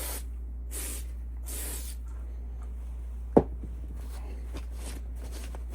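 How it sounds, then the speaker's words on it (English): A light spray of Pro Ferrum onto rifle parts during rimfire rifle cleaning: a few soft hissing bursts early on, then a single small knock, with quiet handling afterward over a steady low hum. "And then I give it a light spray with the Pro Ferrum."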